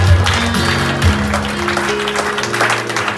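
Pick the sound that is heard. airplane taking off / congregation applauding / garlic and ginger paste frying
congregation applauding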